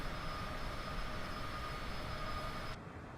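Cessna CJ4 jet engine in Microsoft Flight Simulator 2020, a steady broadband roar with a thin high whine running beneath, continuous and even until it drops off near the end.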